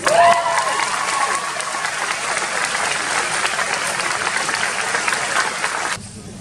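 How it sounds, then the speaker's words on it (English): An audience at a Year 12 graduation ceremony gives a sustained round of applause for an award recipient, dense steady clapping filling the hall before cutting off near the end. "One more round of applause"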